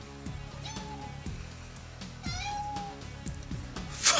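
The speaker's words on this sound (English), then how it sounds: "my cat walks in and mews" A cat meows twice indoors, a short mew then a longer rising one, fairly close over a steady low hum with a brief louder rustle at the end.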